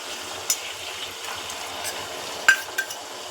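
Chopped aloe vera pieces fry in hot oil while a homemade hair oil is prepared. A soft, steady sizzle runs throughout, broken by a few sharp clinks from stirring.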